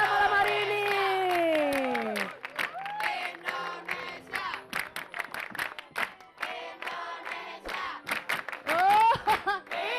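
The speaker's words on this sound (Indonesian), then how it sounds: "Lagi dong tepuk tangan dong untuk tamu spesial kita malam hari ini." Studio audience on an Indonesian TV talk show clapping and cheering for guests, bursts of applause mixed with loud whoops, shouts and music, with a host speaking over the crowd.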